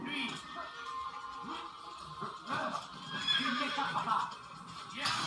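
Horse neighing in the video game Assassin's Creed, a whinny rising over steady game ambience with faint hoofbeats, moderately loud and fairly near, with no talk over it.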